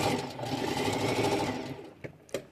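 A sewing machine set to low upper thread tension runs in a steady, dense mechanical whir for about two seconds, then stops, followed by a couple of sharp clicks from the machine.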